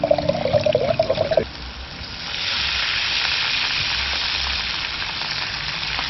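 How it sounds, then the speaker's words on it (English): Fish sauce with chopped onion and white wine simmering in a pan, a steady close sizzle and soft bubbling that settles into a constant hiss after a brief clatter at the start. "Just let that simmer away."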